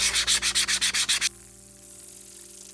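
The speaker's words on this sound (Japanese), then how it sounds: "まだ乾ききってないんですけど、ざらつきをヤスリで取っていきます。" Rhythmic rasping of a file scraping the rough, still slightly damp surface of a leather shoe sole during handmade shoe making, about eight even strokes, close and loud, then stopping into quiet room tone.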